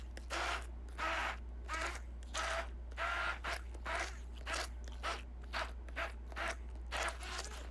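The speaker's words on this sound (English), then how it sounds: "Continue to mix the whipping cream with fresh mango until it blends together." An electric mixer whipping cream with fresh mango for mango graham ice cream makes a quiet, steady low hum with rhythmic mechanical rattling pulses throughout, and no one talks.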